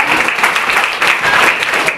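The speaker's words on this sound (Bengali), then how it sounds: "দিদাংশুর জন্য হাততালি হোক প্লিজ।" A classroom of school students applauds a classmate, a loud, dense burst of many hands clapping close by, steady and sustained without speech over it.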